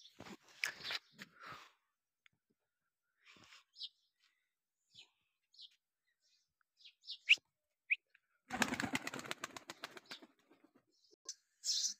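Small birds in a village chirp in short, sparse, scattered notes against quiet surroundings, broken by a burst of nearby rustling and handling noise.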